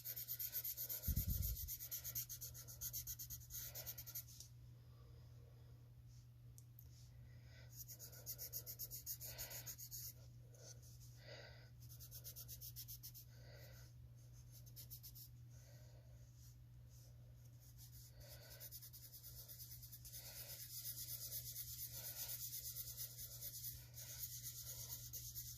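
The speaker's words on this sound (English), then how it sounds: "Remember always using the side of a sharpened pencil." A sharpened black pencil shades with its side across paper, giving a soft, continuous rubbing and scratching in close, uneven strokes that run on at length with no talk.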